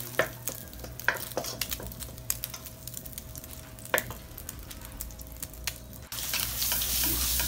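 Butter melts and sizzles with oil in a pan for carbonara, a soft continuous fry punctuated by clicks and scrapes of stirring, the hiss swelling louder toward the end.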